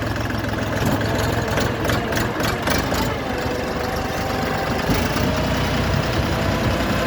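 An Orion RF244 mini tractor with reverse gear and multifunction hydraulics idles steadily up close, its loud, constant diesel rumble running unbroken throughout with no voices.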